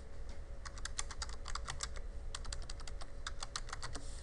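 Rapid typing on a computer keyboard, steady clusters of crisp key clicks over a low constant hum, close and fairly loud with no voices.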